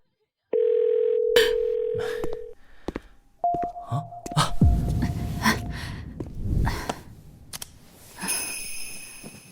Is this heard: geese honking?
no